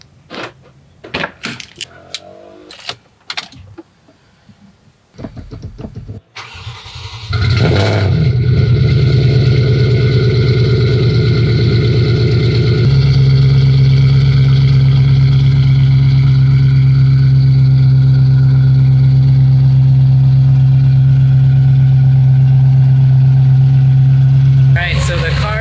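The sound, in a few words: supercharged car engine starting and idling on E85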